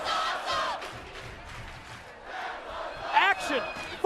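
A wrestling crowd at a six-man tag match cheers and roars in a broad arena wash. It rises and falls, and a few sharp yells cut through near the end.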